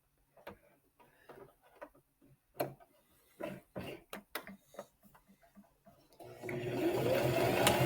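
A sewing machine back stitching pieced quilt half-square triangles, with short bursts of stitching and handling clicks early, then a sustained steady run of the motor near the close.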